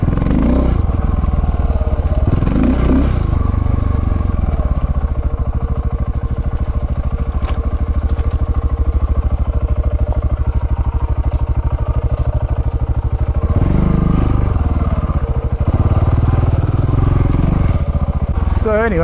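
A KTM 690 Enduro motorcycle engine droning steadily while being ridden, a continuous loud hum with slight swells in revs, with someone talking over it throughout.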